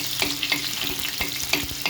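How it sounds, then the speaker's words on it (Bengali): Garlic, onion, red chilli and cumin fry in hot oil with a constant close sizzle, broken by quick scraping stirs of a utensil against the pan. "পেঁয়াজটা ভাজা হয়ে গেছে"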